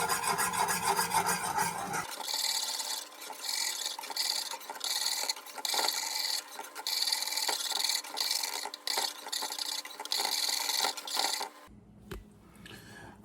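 Boiling praline sugar mixture being whisked in a pot: a continuous rhythmic scraping and rasping close up for about ten seconds, which then stops abruptly.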